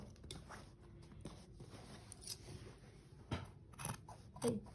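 Scissors snipping through salwar fabric during tailoring, several short crisp cuts spaced irregularly, close and fairly quiet, with faint room noise between them.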